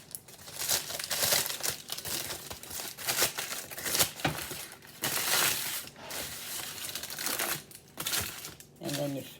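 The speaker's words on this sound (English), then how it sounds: "You get parchment to stay better if you just crumple it up a little bit." Parchment paper is crumpled by hand in a kitchen, giving a steady run of close, dry crinkling and crackling bursts of varying loudness over several seconds.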